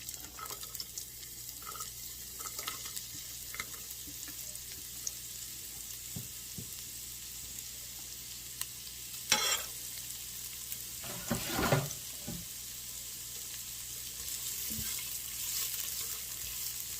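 Carrots go into a hot pot for chicken wild rice soup, giving a faint, steady sizzle with a few clinks and scrapes of stirring throughout.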